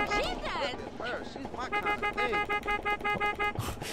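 A car horn in GTA San Andreas honks in quick repeated toots, steady and mid-loud, with game background sounds and a voice talking over parts of it.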